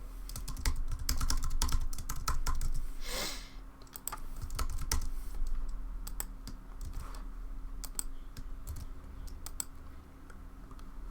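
Someone types a password on a computer keyboard, with quick irregular key clicks close to the microphone, bunched in short bursts over a quiet background hum.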